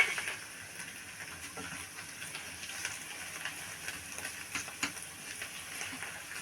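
Watermelon rind sautéing in a pan for halwa, giving a soft, steady sizzle with faint scraping and stirring clicks from a utensil throughout.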